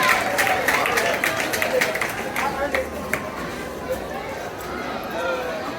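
A crowd applauds and cheers at a school report card ceremony held with a church pastor present, clapping and chatter loud and continuous for several seconds, voices mixed into the hubbub.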